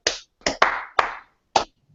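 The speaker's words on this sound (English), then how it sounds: "So let's give 2 claps to them." An audience in a coaching workshop gives sharp, loud bursts of group clapping, several distinct claps close together, with no talk.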